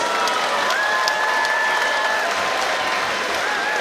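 Dense applause and cheering from an audience for boxers at an amateur boxing match in a college hall, steady continuous clapping with a few whistles, loud and close throughout.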